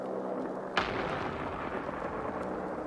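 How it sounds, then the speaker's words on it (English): In a video game, a single sharp explosion bursts partway through, then a rumbling blast echo decays over a steady background of low noise. "looks like explosions day down there"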